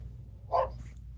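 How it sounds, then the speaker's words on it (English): A pet dog gives one short bark in the background of a room, faint and brief over a steady low hum. "That's my dog in the background"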